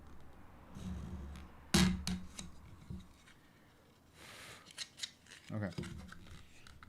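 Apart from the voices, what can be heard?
cutting car interior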